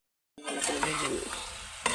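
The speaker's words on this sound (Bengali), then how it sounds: "পটলটা দিয়ে আলুটা দিয়ে দিয়েছি, একসাথে ভেজে নেব ভালো করে।" Pointed gourd and potato pieces hit hot oil with salt and turmeric, bursting into a sudden close sizzle after a moment of silence, then frying steadily with stirring scrapes.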